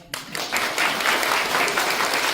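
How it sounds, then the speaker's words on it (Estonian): Loud, sustained audience applause at a Rakvere town open-air performance of the robbers story, many hands clapping densely and steadily from start to finish with no talk. "Nii võib plaksutada."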